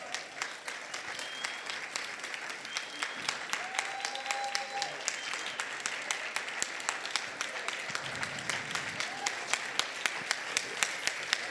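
Steady applause from a gathered audience honoring Reverend Jesse Lewis Jackson Sr. at a Founder's Day morning forum, dense clapping continuing throughout with sharper individual claps standing out near the end, fairly distant and moderate in level.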